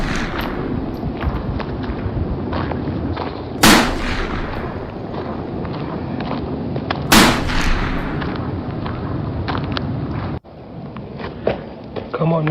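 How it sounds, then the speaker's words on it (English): Gunfire near a Red Army bunker in wartime, mostly a continuous low rumble of distant shooting with two sharp, louder bangs standing out, while voices speak intermittently over it. "Comrade, you can hear the gunfire."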